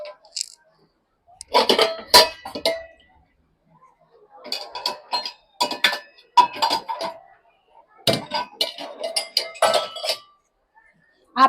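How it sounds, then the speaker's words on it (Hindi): Small dishes and a stained tea pot are set into the basket of a Bosch dishwasher, giving clinking and clattering knocks in three close bursts separated by brief pauses. "तो छोटे छोटे जो मेरे बर्तन है वो सारे मैं इधर पे डाल दूंगी अभी।"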